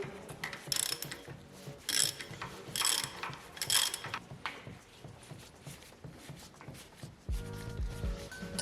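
A ratchet wrench tightens an engine bolt in a Nissan R32 Skyline rebuild to 50 newton meters, with bursts of rapid clicking in repeated strokes, short pauses between, close and distinct.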